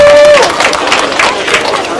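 A crowd at an outdoor local celebration with a vintage motorcycle club claps in a loud, close burst of irregular hand claps, with a held tone at the start and voices mixed in.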